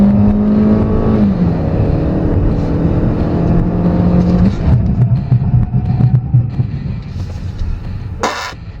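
A 2014 Hyundai Elantra Coupe with an automatic gearbox accelerates hard on a 0-60 mph run, its engine droning loud and steady with pitch changes at the shifts. A brief sharp noise comes near the end.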